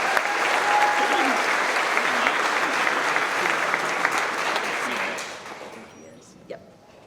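Sustained applause and cheering from a company crowd at a trucking firm's monthly celebration honoring the driver of the month, dense and steady for about five seconds before tapering off, with a few scattered claps and voices at the end.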